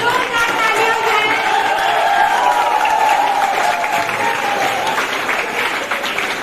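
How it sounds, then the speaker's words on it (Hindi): An audience at an engineers day celebration claps loudly and continuously, a thick sustained burst of applause with faint cheering and chatter mixed in, holding steady before easing slightly at the end. "जोरदार तालियां हो जाएं"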